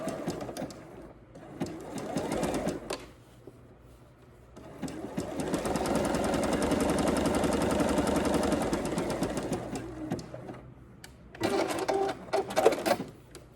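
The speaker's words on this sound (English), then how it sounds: "my machine's having a little trouble feeding that through" A sewing machine stitches fabric for underwear, struggling to feed it through, with a steady close mechanical whir lasting several seconds, bracketed by shorter runs and handling noise.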